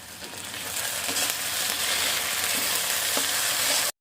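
Chopped tomato hits hot oil and sizzles loudly, the hiss building quickly into a dense, steady crackle with light stirring, then cutting off abruptly.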